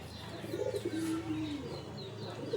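Fancy pigeons, such as Kalankar, Chini and Laljiria Madras birds, coo softly nearby in a steady rolling call over a low background hum, with faint chirps mixed in.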